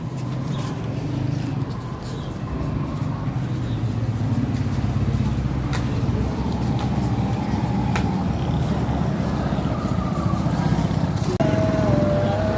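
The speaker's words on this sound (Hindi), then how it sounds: "मैं बस बाइक ड्राइव कर रहा हूँ" A motorcycle ridden along a road, its engine droning steadily and loudly throughout with a low rumble, passing traffic sounds faint in the background.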